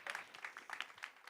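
An audience applauds at a cycling-policy talk, a quick patter of many hands clapping at moderate distance, fairly faint and brief, with no speech over it.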